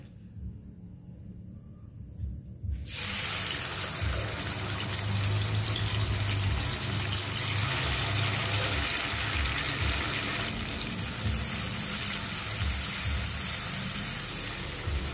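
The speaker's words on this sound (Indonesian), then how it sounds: "kalau minyaknya sudah panas, kita masukkan sambalnya" Sambal chili paste hits hot oil for dendeng batokok. After a few seconds of near quiet, a loud, steady broadband sizzle bursts in and holds close and continuous.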